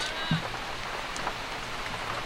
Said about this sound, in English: We're in a torrential downpour at the moment.